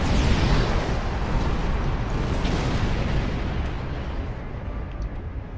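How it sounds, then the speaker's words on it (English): A station plasma lance fires in Star Trek Online, a dense roaring blast that sustains loudly for several seconds and slowly tapers. "Firing station plasma lance in 3"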